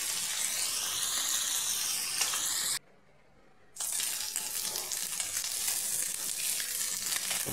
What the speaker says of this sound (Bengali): মাছ ভাজা হয়ে এক সাইড হয়ে গেছে, এক সাইডে পাল্টাচ্ছি।